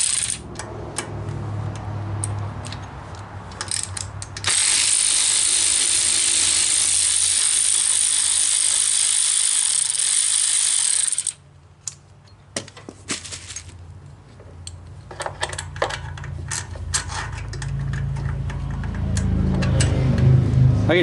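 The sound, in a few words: ratchet wrench with new socket working on Cub Cadet mower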